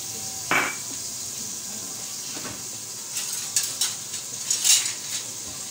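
Onion dropped into butter in a cooking pot, a few metal clinks and scrapes from the pot and utensil over a steady sizzle, close and moderately loud, with no talk.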